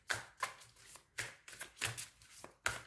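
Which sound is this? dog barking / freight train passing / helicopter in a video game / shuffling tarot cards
shuffling tarot cards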